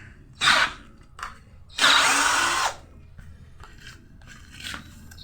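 A Morris 16.8V brushed cordless drill fitted with a 16 mm wood bit gives short bursts of whirring. One brief burst comes first, then a longer, louder run of about a second, then fainter spurts against a quiet background.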